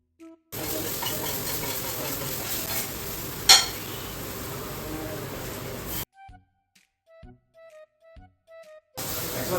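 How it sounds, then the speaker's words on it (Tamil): Sambar sizzles and bubbles steadily in a hot dosa pan, a loud continuous hiss that cuts off abruptly, followed by a few faint clicks. "ஒரு மாதிரி கொதிக்கிறது ஆவியாக இருக்குது."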